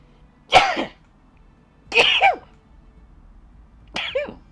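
Three sharp sneezes or coughs come a little over a second apart, each a quick burst followed by a breathy tail, heard close against quiet room tone.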